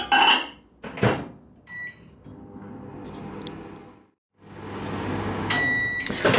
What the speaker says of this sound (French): je vais le mettre donc à fondre au micro-ondes à peu près 30 secondes